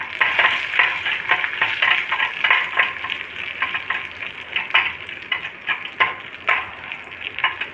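Raisins fry in a pan for semiya kesari, giving a steady, close sizzle broken by repeated scraping stirs.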